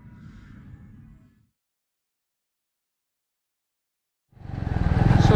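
A Meteor 350 motorcycle ridden through the Cotswolds: engine noise fades out into near silence, then returns loud and close as the engine revs up and pulls away.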